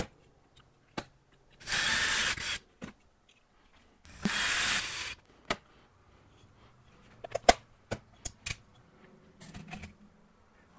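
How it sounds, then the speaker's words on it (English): Screws driven down into countersunk holes in an aluminum cap with a powered driver: two steady whirring bursts of about a second each, followed by scattered light clicks and taps, with no talking. "We'll line up the screws and drive them down."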